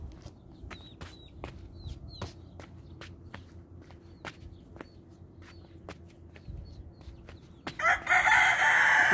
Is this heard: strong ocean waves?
no